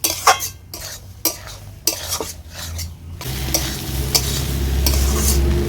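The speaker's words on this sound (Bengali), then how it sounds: "এবার সব কিছু আমি ভালো করে কষতে থাকবো।" Soybeans and chickpeas stir-fried in a pan with a little water, repeated scraping strokes of a spoon against the pan, then a louder sustained sizzle, close and prominent with no talk.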